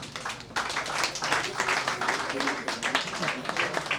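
Audience applause at an office inauguration event in Kumba, a dense burst of clapping that starts abruptly and carries on steadily, close and fairly loud, with some voices mixed in.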